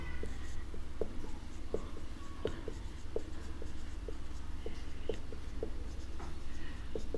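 Pen strokes scratch on paper while a math solution is written out, short scribbles and taps recurring at an uneven pace, close and fairly quiet over a low background hum.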